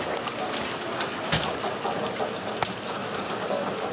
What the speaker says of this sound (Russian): Сейчас покажу, какой дождь.